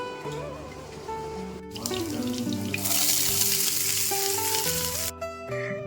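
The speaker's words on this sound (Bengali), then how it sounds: "মাছ রান্না শেষ হয়ে গেলে আমি শুরু করে দিলাম ভেজ ডাল রান্না করতে।" Vegetarian dal cooking in a pan, a close, steady sizzle with stirring and bursts of running tap water from a kitchen sink, background music faint underneath.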